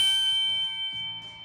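Notification bell sound effect giving a couple of bright, ringing dings with sustained tones fading out over a short moment.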